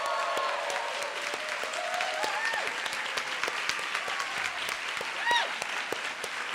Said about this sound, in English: How about one more round of applause for our 2017 Bachelor's Program?